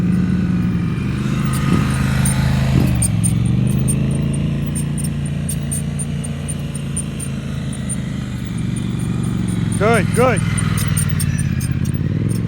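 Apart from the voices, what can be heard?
motorcycle riding slow-speed practice exercises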